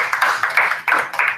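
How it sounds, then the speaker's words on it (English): Audience applause for Mike Haller at a public health summer program, a close, loud patter of hand claps in uneven bursts. "can you all join me in giving Mike Haller a round of applause?"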